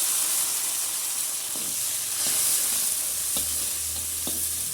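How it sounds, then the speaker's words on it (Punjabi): Cumin, garlic, tomato, onion and green chillies fry in hot oil on a clay chulha, giving a steady close sizzle and hiss with a few faint stirring knocks, no voices. "ਤੇਲ ਹੋ ਸਾਡਾ ਗਰਮ ਸਭ ਤੋਂ ਪਹਿਲਾਂ ਆਪਾਂ ਪਾ ਦਿੰਨੇ ਆ ਇਹਦੇ ਵਿੱਚ ਜੀਰਾ ਹੁਣ ਪਾ ਦਿੰਨੇ ਆ ਇਹਦੇ ਵਿੱਚ ਲਸਣ"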